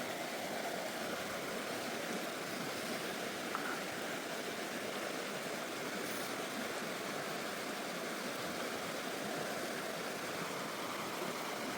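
The Prut, a mountain river near Vorokhta in the Carpathians, flows in a steady, dense broadband rush that stays constant and fairly close, with no voices heard.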